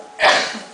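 A single short, sharp sneeze bursts out close by, rising quickly and trailing off within a second, with no talking.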